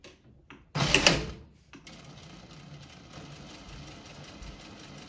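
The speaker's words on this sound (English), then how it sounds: "we will do a top stitch right here on the orange part" A sewing machine top-stitches a fabric Halloween tote bag in one short, loud whirring burst of about a second, then a quieter mechanical hum continues.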